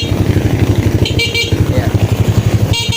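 A Suzuki Raider 150 Fi motorcycle idles with a rapid pulsing putter while its stock horn gives short beeps a couple of times nearby.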